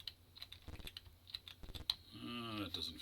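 Computer keyboard keys clicked in quick, uneven bursts to play Crazy Climber on an Atari 2600, close and fairly quiet, with a brief voice and a short electronic game tone near the end.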